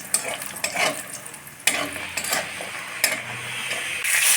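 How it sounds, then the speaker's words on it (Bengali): Dal bori lentil dumplings fry in a pan after fish for a light curry, a close sizzle with spatula scrapes and clatters of metal utensils against the pan, a few sharper knocks standing out. "ডালের বড়িটা এখন ভেজে নিচ্ছি।"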